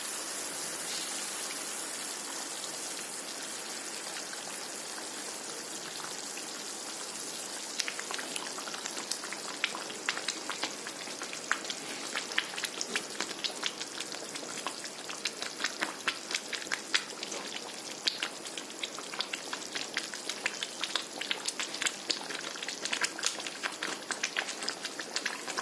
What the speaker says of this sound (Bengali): ঝুলটা খুব ভালো করে ফুটে গেছে